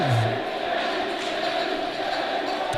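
Crowd at a Noble & Greenough Bulldogs versus St. Paul's School Pelicans high school hockey game cheering as a steady, loud wash of voices that runs the whole time with no clear peaks.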